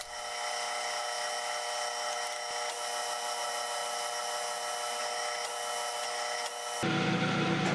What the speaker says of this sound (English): Now I need a chamfer on the outside.